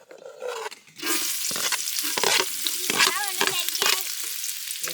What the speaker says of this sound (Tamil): எண்ணெய் சூடாயிருச்சு. நம்ம இஞ்சியும் பொண்ணு குட்டி குட்டியாக நறுக்கி இருக்கோம்,